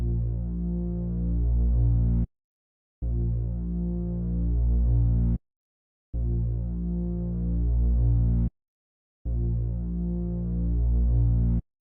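A deep, droning bass pattern for a dark beat made in FL Studio plays loud and close in four sustained phrases, each ending abruptly with a short gap of silence before the next.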